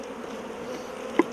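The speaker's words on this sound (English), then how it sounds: "get that last bee out of there" Bees buzz steadily and close during a first beehive inspection, a continuous humming drone with a brief sharp knock near the end.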